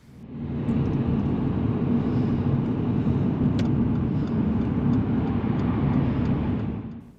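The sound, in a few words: heavy traffic on a dual carriageway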